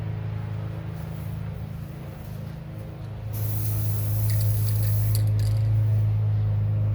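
A spray paint can applies a final coat. A sustained, close hiss of spraying starts partway through over a steady low background hum.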